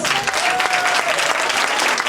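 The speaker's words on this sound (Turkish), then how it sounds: "Sizler de alkışla bize destek oluyorsunuz." Loud, continuous clapping from a crowd at a school year-end show and cap ceremony, a brief, dense burst of many hands that stays at full strength from start to finish.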